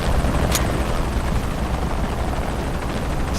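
In the Shadow of the Tomb Raider game, a helicopter hovers close by, its dense rotor wash roaring steadily for several seconds without any speech.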